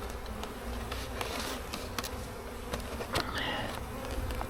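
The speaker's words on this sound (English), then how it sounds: "there's a whole bunch of bees flying around" Bees swarm around an open beehive during an early spring inspection, a steady faint buzzing with individual insects zipping close past the microphone, punctuated by a few sharp clicks and knocks.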